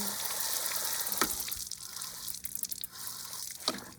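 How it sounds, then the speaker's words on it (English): Water from a hose or tap rinses down a bicycle while its chain is spun, a steady wet spray and splatter with a couple of sharper splashes, close by with no talk. "we will rinse this all off with water"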